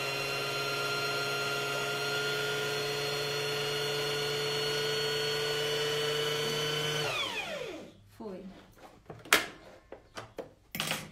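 A sewing machine winds a bobbin with a steady motor whine for about seven seconds, then spins down to a stop, followed by a few sharp clicks and knocks at a sewing table while a coat is being made.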